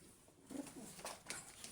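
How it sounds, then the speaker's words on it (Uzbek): Pigeons brought from Margilan coo softly, a few low throaty calls in quick succession, faint and somewhat distant. "Marg'ilondan kelgan kaptarlarimiz,"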